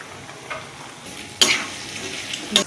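Onions sizzle in a pan over cooked chicken for chicken chilli parotta, with a soft hiss and a couple of sharp stirring scrapes close by.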